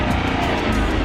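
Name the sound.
Land Rover LR3 engine revving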